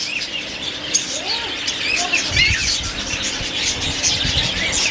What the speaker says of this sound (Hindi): ये कॉमन कॉकटेल है